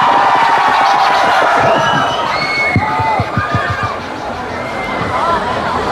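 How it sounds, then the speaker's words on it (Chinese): Male fans at a concert on a Kaohsiung beer festival stage shout and cheer together, a loud mass of voices that swells and then eases, with crowd chatter running through it. "男生的朋友尖叫声。"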